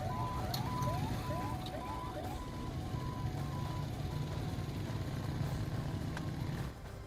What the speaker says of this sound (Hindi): चारों तरफ सायरन की आवाजें सुनाई दे रही है।